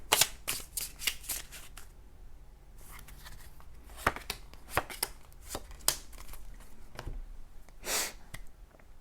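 Tarot cards are shuffled by hand in quick bursts of crisp riffling and flicking, close and fairly quiet, with brief pauses between runs and no talk.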